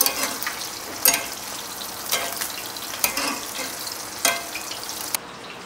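Food frying and sizzling steadily in a pan, a dense continuous hiss broken by periodic sharper crackles and stirring bumps, close and fairly loud with no talk.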